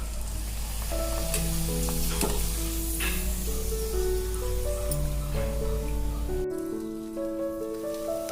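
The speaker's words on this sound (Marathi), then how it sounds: "आता तेल तापलंय पापड तळून बघूया" Urad-moong papad deep-fries in hot oil with a loud, continuous close sizzle and scattered crackles, under a steady tone with some musical notes, and the sizzle drops away near the end.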